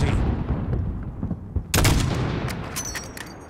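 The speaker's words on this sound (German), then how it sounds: "Achte auf das Mündungsfeuer, wenn sie schießen." Gunfire in the PC game Call of Duty: Modern Warfare (2019): a steady rattle of distant shots, broken by a sharp, loud nearby volley midway, with fainter shots trailing after.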